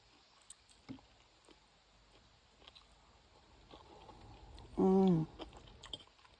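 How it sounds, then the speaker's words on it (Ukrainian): Close, wet chewing with a loud crunchy burst near the end as fried pork cracklings are eaten with meat dumplings, preceded by quieter scattered mouth clicks and bites. "Аж хрумтять так зажарені."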